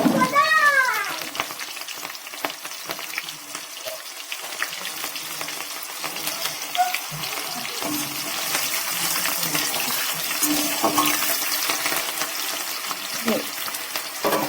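Slit green chillies fry in hot oil for a vegetarian aloo dum, giving a steady close sizzle throughout with a few faint clinks and stirring touches, no talk over it.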